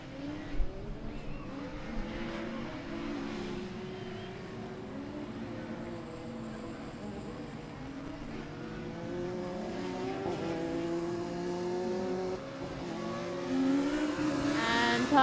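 Race cars circulate on a student racing circuit, their engines droning and rising in pitch as they pass, fairly faint and continuous with revving swells toward the end, no talking heard.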